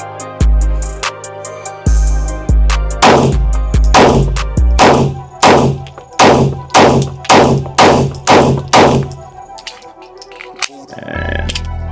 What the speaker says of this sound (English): we're gonna take these headshots with this Canik Mc9, the Mete